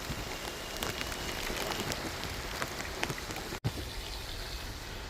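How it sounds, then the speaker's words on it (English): Rain showers down steadily on a bike trail, a dense, close hiss of drops pattering on surfaces with scattered louder plinks and one sudden brief dropout. "Raining pretty good now."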